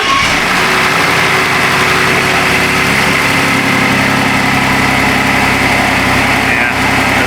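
A 2018 Ford F-150 with the 2.7 engine and its check engine light on runs at a loud, steady idle, a continuous close-up engine drone with a slightly jittery texture throughout.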